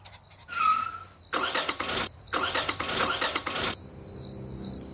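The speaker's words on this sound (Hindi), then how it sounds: "अरे, ये गाड़ी को क्या हो गया अचानक से? स्टार्ट ही नहीं हो रहा।" A car fails to start on an evening roadside: two long grinding bursts of the starter cranking without catching, separated by a short pause, over a steady chorus of crickets.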